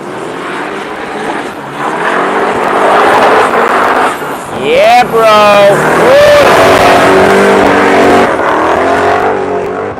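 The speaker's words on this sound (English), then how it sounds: "coming in with his S15 twin turbo" Nissan S15 twin-turbo drift car at a drift practice in Cyprus, a loud sustained engine roar with rising and falling revs, heard under a brief spoken exchange nearby.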